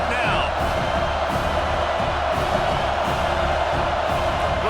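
A stadium crowd at an American football game roars and cheers in a steady, loud wash of noise that fills the whole stretch without letting up.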